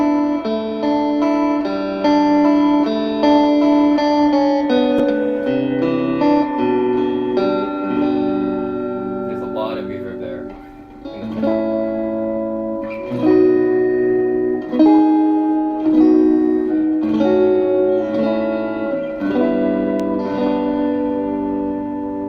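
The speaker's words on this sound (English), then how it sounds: "Pure tube spring reverb there, tube powered spring reverb." Electric guitar played through a Milkman One Watt Plus tube amp with its tube-driven spring reverb turned full, sustained ringing chords and notes blooming into a long, splashy reverb tail, steady and loud without any voices.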